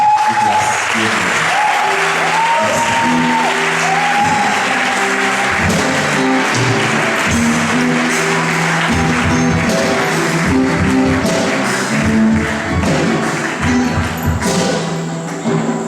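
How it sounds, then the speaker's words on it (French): Audience applause greets a pastor at an evening church service, a steady wash of clapping that carries on for the whole stretch at strong volume, with organ or keyboard tones and some voices mixed underneath. "Sous vos acclamations, recevons le pasteur."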